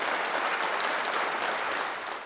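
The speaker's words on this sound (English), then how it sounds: "Applause for the chair of the Infected Blood Inquiry before he even began to deliver his" A hall audience applauds the chair of the Infected Blood Inquiry, a short, steady wash of many hands clapping that tapers slightly at the end, with no voices over it.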